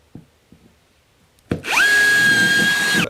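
A power drill bores holes into a plasterboard wall, starting with a few faint taps and then a sudden loud, close whine of the motor that holds a steady pitch for a sustained stretch.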